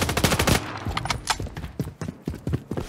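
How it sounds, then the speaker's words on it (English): Rapid automatic gunfire from Call of Duty MW3 rattles in quick, closely spaced shots, loud and near, with short pauses between bursts and no talking. "Taking fire over here."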